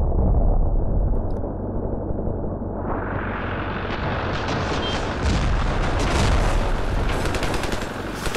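Dense gunfire and booming explosions fill a Ravenfield battle, a loud continuous barrage of shots and blasts rumbling together without a break.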